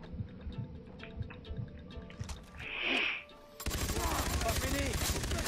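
Gunfire in the first-person shooter Far Cry 3 in co-op play, with a burst of shots and a sudden loud stretch of rapid firing and impacts near the end, under faint game ambience.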